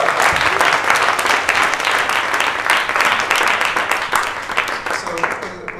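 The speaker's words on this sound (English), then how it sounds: "We can also have an applause for it." A festival audience bursts into dense, loud applause after an onstage discussion, continuous clapping that gradually thins toward the end.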